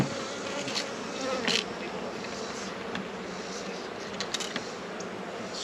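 Honey bees swarm around an open hive during treatment and feeding, a dense, continuous buzz close to the microphone with individual insects zipping past, and no talk over it.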